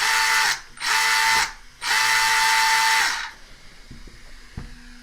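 Small cooling fan and electric motor of a Tamiya Durga DB-01 RC car whirring loudly in three close bursts with a sharp high whine, then cutting out to quiet, with a couple of faint clicks.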